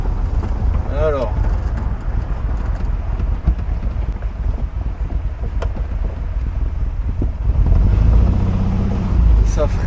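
A Volkswagen Golf 1 GLI drives along with engine rumble and wind buffeting, then brakes toward the end as the low drone swells; people talk over it throughout.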